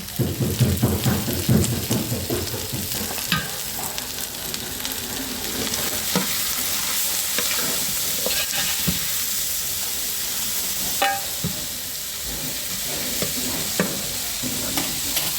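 Small shallots, salted, sauté in a pan for fish chilli roast, sizzling and hissing steadily while a spoon scrapes and stirs in irregular knocks, louder at the start, with no speech.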